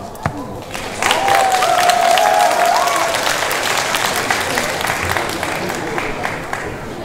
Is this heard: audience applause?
yes